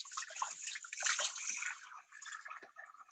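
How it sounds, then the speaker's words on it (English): Hands washed with soap under warm running tap water in a home kitchen while cooking spaghetti and meatballs with raw meat, a steady close splash and trickle of water throughout. "So I'm gonna wash my hands with soap and warm water because we're handling raw meat."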